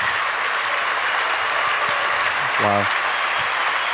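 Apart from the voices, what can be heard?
audience applause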